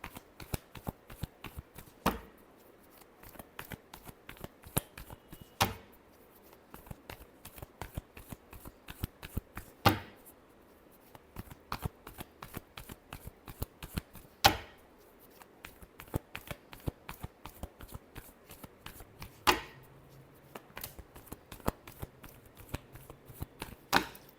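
Tarot cards are shuffled by hand in close, crisp riffling bursts, rapid runs of flicking clicks broken by sharper taps and squaring knocks, repeated many times with short pauses between.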